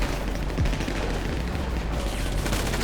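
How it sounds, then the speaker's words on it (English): Rapid, dense gunfire in the video game GTA Online rattles on continuously as a loud burst of overlapping shots, with bullets coming toward the player and no speech over it. "a lot of bullets coming our direction"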